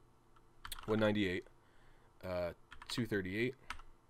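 Stats entered by typing on a computer keyboard for a Pokémon IV calculator, the quiet key clicks running under a man who reads numbers aloud in short bursts.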